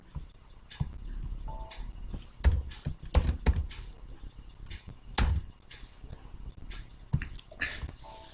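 Typing on a computer keyboard while entering data into SAP software, a close sequence of irregular key clicks with a few louder taps, plus faint room noise.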